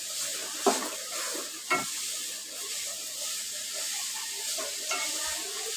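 Sugar stirred in a hot pan for coconut barfi: a steady sizzling hiss runs throughout, with two sharp scraping knocks of the spoon early on and a softer one near the end, close and fairly loud, no voices.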